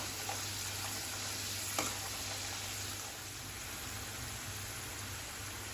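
Taro (arbi) pieces deep-frying in hot oil, giving a steady, close sizzle and fine crackle throughout with one or two small pops, with no talking.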